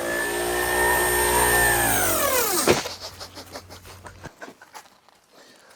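A high electric motor whine from an electric scooter at full throttle holds steady, then drops sharply in pitch as the scooter slows, followed by choppy rattling and rolling noise.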